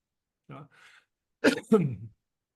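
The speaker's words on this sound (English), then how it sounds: "while I'm having a coughing fit over here" A few short, harsh coughs and throat-clearing bursts close by, a small one followed by two stronger hacks in quick succession.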